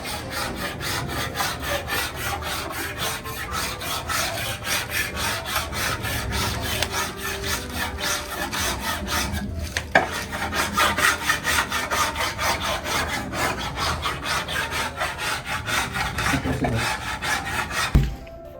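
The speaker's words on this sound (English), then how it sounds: "So I managed to sand both parts here, both sides." Continuous hand sanding of wood on a piece of furniture under restoration, a steady rapid back-and-forth abrasive scraping that stays close and loud throughout with a brief pause midway.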